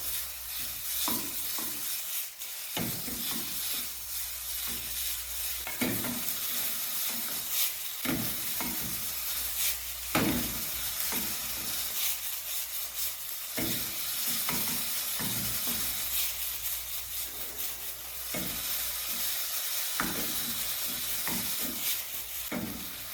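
Ingredients stir-fried in a pan make a continuous loud sizzle with repeated scraping and clacking strokes from stirring, steady throughout with no talking.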